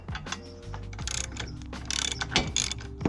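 A ratchet clicks rapidly while loosening 16mm bolts on the front end of a Mk6 Golf R, with bursts of ratcheting in quick runs, close and clear with no talk.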